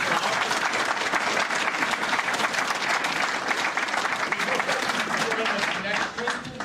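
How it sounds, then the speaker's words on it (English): Loud, dense audience applause fills an evening lecture hall, sustained and even from start to finish before easing slightly at the very end. "I'll big round of applause"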